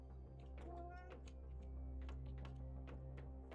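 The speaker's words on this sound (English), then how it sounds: "Making a lot of noise, cat." A cat meowing in a farm-building game, short faint cries mixed with clicky taps and game tones, while a voice speaks.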